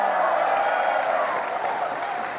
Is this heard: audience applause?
yes